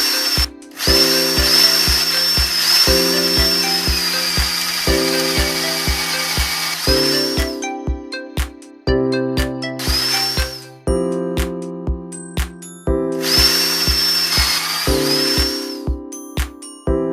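DeWalt 48V cordless drill, 6 Ah, 450 to 1550 RPM, running in loud, steady whirring bursts with brief stops and restarts between them, close up and with no talking.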